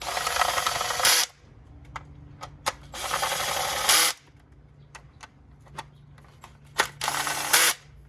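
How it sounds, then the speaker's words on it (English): Valve cover bolts being run in on an NC Mazda Miata MX-5, with three loud bursts of buzzing power-tool whir separated by quiet gaps holding scattered sharp clicks and taps of metal. "tighten them down with the ratchet"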